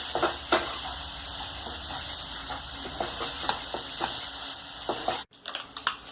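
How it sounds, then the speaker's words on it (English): Ground paste stirred with browned onion in a hot pan for restaurant-style egg gravy, giving a steady soft sizzle with scattered scraping clicks of the spoon and a brief cutoff near the end. "Now I am giving a good stir till the raw smell disappears."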